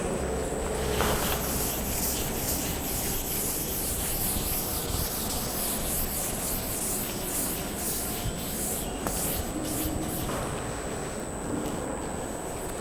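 Steady rubbing of writing off a classroom board, a continuous dry scrubbing hiss that runs for the whole stretch at an even level, with no talking.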